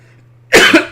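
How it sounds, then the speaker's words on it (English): A person's coughing fit in a casual coffee-shop setting: after a quiet lull, a burst of loud, rough, close coughs runs for about a third of a second, followed by one more sharp cough at the end. "Now I'm gonna have a cough attack."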